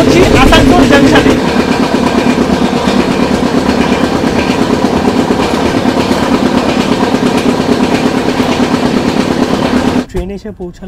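A passenger train pulls out of Durgapour station with a loud, steady rumble and clatter of wheels on the rails that fades sharply at the very end.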